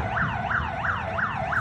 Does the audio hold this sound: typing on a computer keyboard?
no